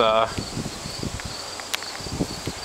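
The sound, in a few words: electric igniter sparking in strong wind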